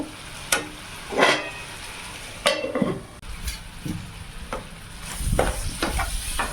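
Tomato spice paste fries in oil in a pan under steady sizzling while a spatula scrapes and stirs it in repeated close strokes, some louder than others.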